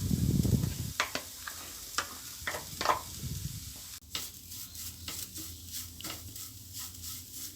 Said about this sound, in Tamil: நம்ம அதே நெய்யில் தேங்காயை வறுத்துக்கிடுவோம்